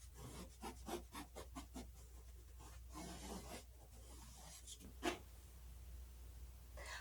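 Pencil lightly drawing a line on canvas, a quiet scratchy series of short strokes with a couple of longer rubbing passes and one sharper scrape, close and faint, no talk.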